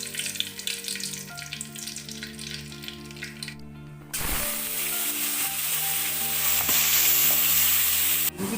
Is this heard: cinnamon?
yes